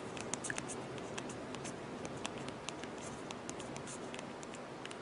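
Quick taps on a phone touchscreen keyboard patter steadily for several seconds, light and close over a constant hiss.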